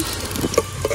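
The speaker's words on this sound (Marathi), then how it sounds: "चांगलं व्यवस्थित त्याला परतून घ्यायचं आहे, जेणेकरून कांदा आणि लसूण दोन्ही चांगले त्याच्यामध्ये मिक्स होऊन जातील" Onion and garlic sauté in a hot pan outdoors on a farm, giving a continuous loud sizzle with a few stirring scrapes and pops over one second.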